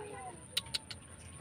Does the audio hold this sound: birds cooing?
yes